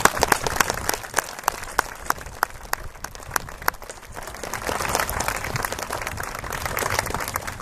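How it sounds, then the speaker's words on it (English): Outdoor audience at a Relay for Life opening ceremony clapping, with distinct close handclaps over a wider crowd applause that grows fuller in the second half. "if you can take a moment to give them a round of applause as well"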